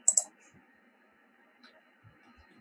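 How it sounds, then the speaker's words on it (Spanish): Two quick, crisp computer mouse clicks sound close together right at the start while working in Revit design software, followed by near silence with only faint stray ticks. "Simplemente le damos clic en duplicar"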